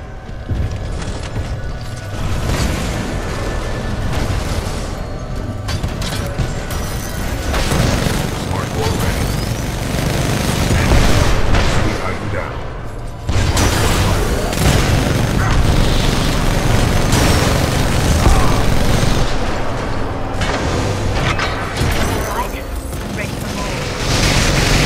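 A fold weapon powers up in a sci-fi video game, a loud, dense mechanical roar with deep booming rumbles that drops briefly midway and then resumes, while a voice speaks over it.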